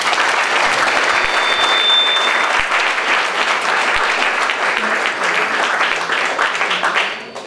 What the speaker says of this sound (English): So please join me in giving them a big round of applause.